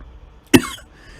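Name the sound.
man coughing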